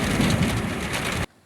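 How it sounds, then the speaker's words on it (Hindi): Heavy rain driven by strong wind lashes down during a dust storm in Balochistan, a dense, loud, steady roar of downpour that cuts off abruptly at the end. "बहुत तेज़ बारिश, हवा के साथ बारिश है।"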